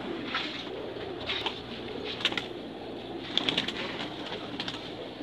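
Pigeons cooing on a rooftop: soft, repeated low coos and faint calls, with steady ambient noise beneath.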